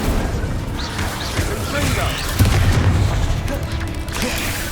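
Incendio fire spell cast in Hogwarts Legacy on PS5, a booming burst with rough crackling spread over several seconds amid ongoing combat noise, loud and dense.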